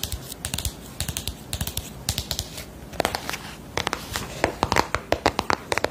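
ASMR fingernail tapping, close and crisp, in rapid irregular bursts of sharp clicks with short pauses between clusters and no talking.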